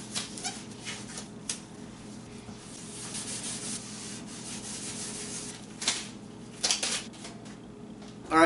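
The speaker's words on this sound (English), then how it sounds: "Sanding sponge, dust free." A dust-free sanding sponge is rubbed over plywood indoors, giving a steady, close scratchy rasp that continues for several seconds, with a few louder strokes toward the end and no talking.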